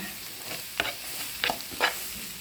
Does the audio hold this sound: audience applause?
no